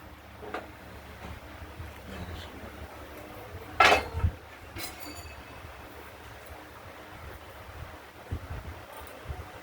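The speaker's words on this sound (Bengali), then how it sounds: "কড়াইটা বসিয়ে দিলাম।" A kadai is set down on a lit stove in a home kitchen while vegetarian potato and raw banana curry is being cooked, giving one short metallic clunk and a small rattle midway through a quiet room.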